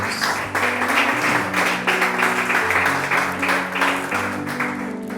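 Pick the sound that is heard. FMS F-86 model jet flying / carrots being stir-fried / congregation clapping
congregation clapping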